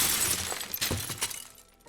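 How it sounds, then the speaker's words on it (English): A glass window shatters in a single crash, with broad bright bursts of breaking glass that ring out and scatter, fading into quieter tinkling debris over about two seconds, heard alone without any voices. "It was the sound of glass shattering."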